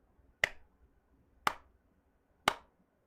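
Three sharp hand claps at an even pace, about a second apart, each a crisp close slap that dies away quickly in an otherwise quiet room.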